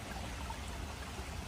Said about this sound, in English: It's got this little natural creek going on.